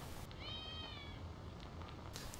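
A cat in the video game Icewind Dale 2 gives a single clear drawn-out meow, moderately faint, over a quiet game background, with a few soft clicks afterward.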